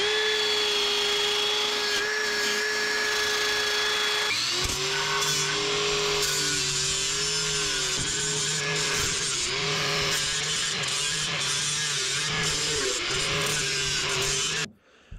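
An electric power tool scrubs rust from the underbody of a Range Rover L322, a steady whining drone with pitch shifting as it bites into metal, loud and close, cutting off at the end.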